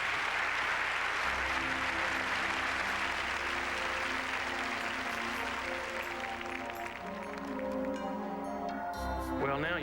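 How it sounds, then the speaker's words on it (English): An audience claps in sustained, dense applause that fills the room steadily throughout, with a brief sharper burst near the end. "Okay, George, please accept my thanks and all of this applause."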